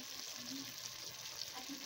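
Pork in a little oil frying over low heat, a steady close hiss and crackle that runs continuously at a soft level, with a faint stir or scrape near the end.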